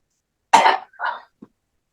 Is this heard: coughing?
yes